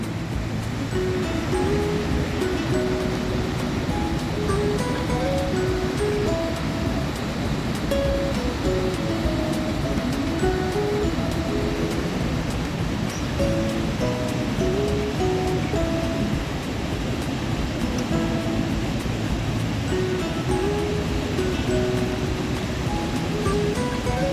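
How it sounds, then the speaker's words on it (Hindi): Constant roaring rush of a mountain river flowing between peaks near Vasudhara falls, a dense unbroken wash of water noise heard close and loud throughout, with no voices. "अद्भुत दृश्य होता है ये, इन पहाड़ों के बीच में से इस नदी को निकलते हुए देखना।"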